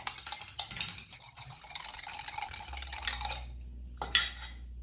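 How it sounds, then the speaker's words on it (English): A spoon stirs a homemade vitamin C serum mixture to dissolve leftover powder, clinking and scraping against its container in quick, uneven taps, then settling into a low steady hum before a final clink. "now we're going to stir again"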